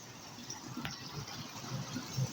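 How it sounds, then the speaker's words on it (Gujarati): Water flows steadily across a farm field after rain, running in from a neighbouring field as a continuous, fairly quiet gush and trickle with small splashy accents and no voices. "હું તમને બતાવું તો પાણી ચાલુ, મને એમ કે બંધ થઈ ગયું છે પણ અત્યારે ચાલુ છે।"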